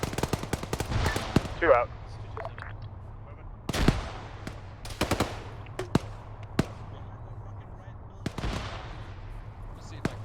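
Intermittent gunfire during an ArmA 3 infantry firefight in a town, sharp single shots and short bursts scattered irregularly, some near and loud, with radio voices talking briefly.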